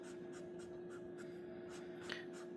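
A Sharpie Creative Marker with a soft, flexible sponge bullet nib strokes across paper in a run of faint, repeated swishes, close up over a steady background hum, with one slightly sharper scrape near the end.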